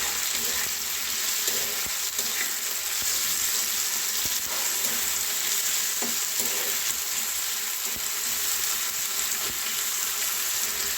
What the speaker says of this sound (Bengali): এর সাথে আলু, পেঁয়াজ, গাজর এগুলো দিয়ে দিই একবারে।